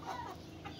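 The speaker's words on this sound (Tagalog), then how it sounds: "Ang manok." A chicken clucks softly a few times over steady background noise, fairly quiet and close.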